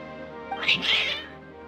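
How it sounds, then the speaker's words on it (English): Worked-up cats meowing in a video game, a single drawn-out, strained meow rising over a steady background music bed. "Your cats seem pretty worked up."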